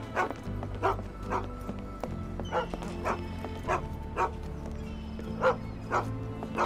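A dog in a video game barks repeatedly in a steady, evenly spaced series of fairly loud woofs over a low ambient hum, with no talking.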